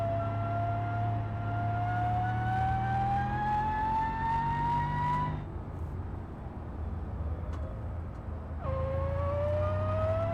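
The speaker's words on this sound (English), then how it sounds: "Yes, there are superchargers that sound like that." A supercharged car engine whines in BeamNG.drive, a loud rising tonal pitch that climbs steadily, drops away at a gear change or lift, then returns with a fresh lower whine over engine rumble.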